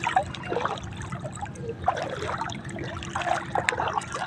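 Sea water at a rocky beach in Barobaybay, Northern Samar, gently lapping and trickling around someone wading, with soft splashes and a few brighter drips over a continuous wash.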